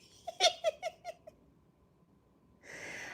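A house cat gives a quick run of short, high, chirping meows, five or six close together, followed by a pause and then a steady rushing noise, all fairly close and quiet.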